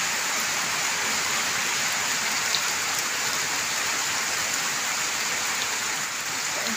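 Heavy rain pours down in a dense, steady roar of drops hitting surfaces, loud and unbroken throughout with no voices.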